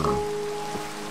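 Steady game rain falls at night in Minecraft, a continuous wash of noise with a faint sustained tone running through it, alone with no talk.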